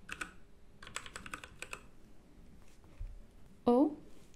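Light clicking keystrokes on a computer keyboard come in short bursts while text is typed into a word processor, close and quiet, followed by a brief louder tone near the end.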